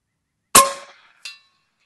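An FX Dynamic .357 air rifle fires and the pellet hits its target, one sharp loud crack followed a moment later by a fainter metallic clang, close and alone with no voices.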